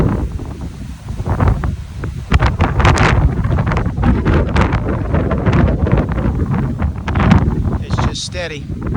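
Strong gusty wind over open swamp water buffeting the microphone in heavy, uneven roaring surges that rise and fall, loud and close, with a person talking over it.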